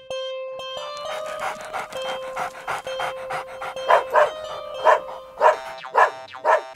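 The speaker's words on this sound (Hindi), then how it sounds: "क्यों भौंक रहे हो?" A dog, Kichchu, pants rapidly and rhythmically up close in a farm field, the quick breaths growing louder and sharper toward the end with short yippy bursts, alone with no talk.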